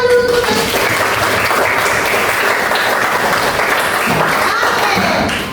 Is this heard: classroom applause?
yes